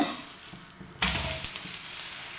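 Wheat flour dosa sizzling in a hot pan, a quiet hiss that jumps sharply louder partway through as batter or the dosa meets the surface, then settles into a steady frying crackle with no talk.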